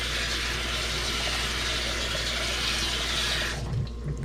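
Water runs from a tap into a cooking pot on a kitchen stove, a steady hiss and splash that stops abruptly near the end, leaving a brief low clunk.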